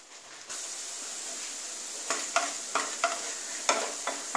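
Potato pakoras deep-fry in hot oil with a steady bright sizzle and hiss, broken by several sharp stirring scrapes and clinks near the end, close up with no speech.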